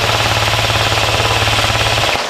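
Airsoft gun motor running with a steady, loud whine because the motor is not seated properly, a continuous buzzing drone with a low hum that stops abruptly near the end.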